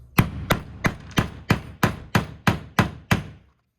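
Ten evenly spaced, sharp metallic whacks strike the outer metal ring of a mast float, each close and ringing briefly before the next in a steady rhythm.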